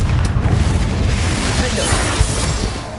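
A Confringo fire spell in Hogwarts Legacy bursts into a loud, sustained explosive boom with rumbling low roar and crackle throughout, no talking over it.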